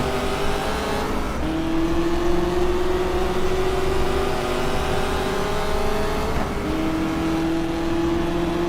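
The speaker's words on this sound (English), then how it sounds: "It's a really tiny, lightweight British car with a big Ford V8 engine." Tiny, lightweight British car with a big Ford V8 engine in GT Legends, its engine droning steadily and loud, pitch climbing through each gear with brief dips at two upshifts, no talking.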